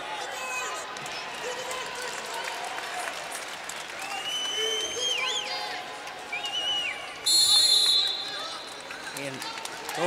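A college wrestling crowd at an Iowa State versus Minnesota dual meet applauds steadily across a packed arena, with sneaker squeaks and a commentator talking over the sustained clapping that briefly surges louder.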